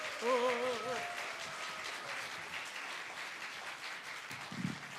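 A church congregation at a mothers' prayer meeting breaks into applause, a steady wash of many hands clapping after a man's short spoken words, continuing evenly to the end.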